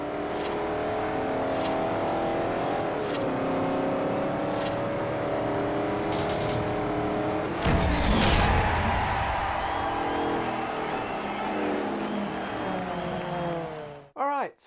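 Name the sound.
car engines in the video game Forza Horizon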